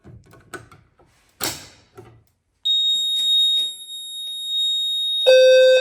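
After a few clicks and the mechanical clack of a pull station, a loud, continuous electronic fire alarm tone from a demo alarm system starts and keeps sounding, growing harsher at the end.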